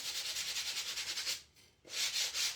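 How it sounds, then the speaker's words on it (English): Rhythmic back-and-forth rubbing of well-worn 120 grit sandpaper on a stenciled wooden Easter bunny craft piece, close and steady, with a brief pause before the strokes resume. "I'm just going to use my 120 sandpaper"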